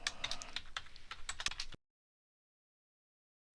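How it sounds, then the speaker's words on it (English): Quick, close typing on a computer keyboard: a rapid run of crisp key taps for under two seconds, then sudden silence before the sound briefly returns. "I'm going to type in Resize for me."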